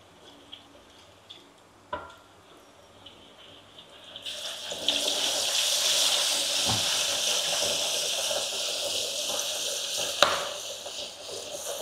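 Butter and curry leaves hit a hot wok for Malaysian dry butter prawns, bursting into a loud, steady sizzle after a few quiet knocks, with a sharp clank near the end as the wok is shaken.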